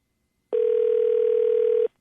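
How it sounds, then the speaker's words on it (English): A telephone ringback tone sounds on an outgoing call: a single clean, steady ring lasting just over a second, alone in silence. "phone's ringing"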